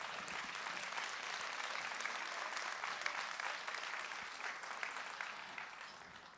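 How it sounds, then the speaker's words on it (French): Sustained applause from an audience at an awards ceremony for engagement trophies, a dense steady wash of many hands clapping at moderate volume, tapering slightly toward the end with no voices over it. "Merci à eux, vous pouvez les applaudir."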